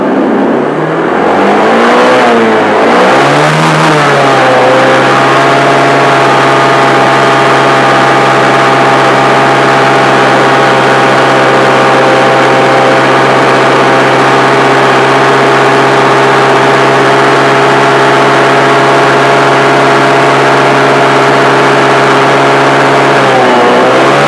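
A Honda Vario 150 scooter engine, warm and hooked to a diagnostic scanner, revving up and down a few times at first, then holding a loud, steady high-rev drone close by for a long stretch.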